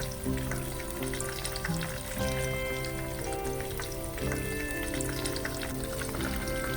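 Jalapeño poppers deep-frying in hot oil, giving a steady, loud and continuous sizzle and bubbling that runs unbroken throughout with no talking.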